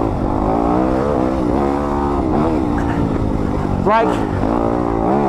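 A 2020 Yamaha YZ250FX dirt bike engine drones steadily and close up while riding, its pitch rising and falling with throttle, with a sharp rising rev burst near the end and a person talking over it.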